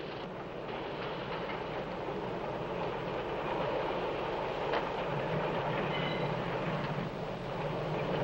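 A train rumbles steadily on its tracks, a dense continuous roar with faint rhythmic clatter and a brief high squeal near the end.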